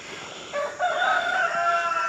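A rooster crows once, loud and close, a drawn-out cock-a-doodle-doo over faint background hiss.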